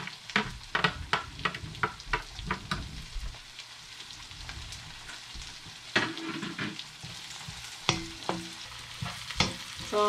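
Garlic and onions fry in a pan while being stirred for Filipino-style macaroni spaghetti, with a steady close sizzle broken by sharp scraping and clinking of the utensil against the pan, no voices.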